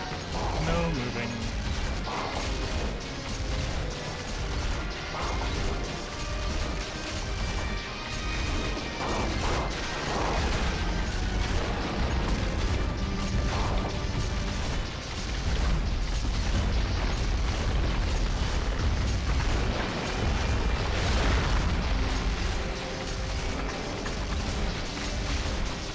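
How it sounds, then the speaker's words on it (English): Autoloader clanks and repeated loud cannon blasts from Monster Hunter Freedom Unite boom amid dense mechanical crashing and battle noise, a continuous loud barrage with voices mixed underneath. "Autoloader and the loud cannon is a little much."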